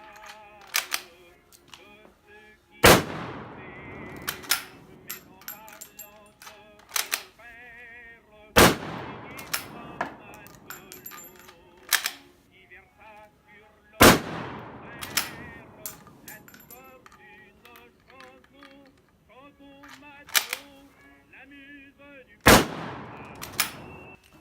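French Lebel Model 1886/M93 rifle firing four rounds at 25 yards, each a loud, sharp crack spaced several seconds apart, with metallic bolt and handling clicks between shots.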